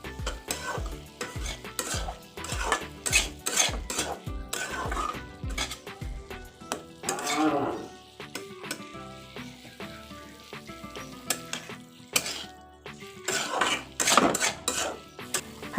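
A pan of bitter gourd, pumpkin and potato stir-fry sizzles steadily as a utensil repeatedly scrapes and knocks against the metal. The strokes are quick and rhythmic at first, then more scattered.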